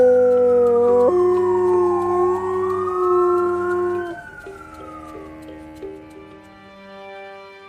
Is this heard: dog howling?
yes